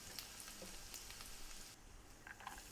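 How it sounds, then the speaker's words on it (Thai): Garlic frying in hot oil, heading toward golden, with a steady crackling sizzle full of small pops, moderately close and alone with no voices. "เราจะมาตั้งน้ำมัน ทอดกระเทียม ให้สีของกระเทียมนั้นเป็นสีเหลืองทองนะครับ"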